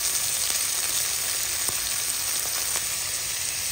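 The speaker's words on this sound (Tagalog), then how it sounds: "nagigisa na po siya sa patis" Mung beans sauté in a pan with fish sauce, giving a close, steady, hissing sizzle with faint crackles and a few light stirring taps, alone without talk.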